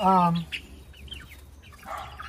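Chickens clucking inside a backyard coop, a loud squawk at the start followed by scattered softer clucks and chirps, with people talking nearby.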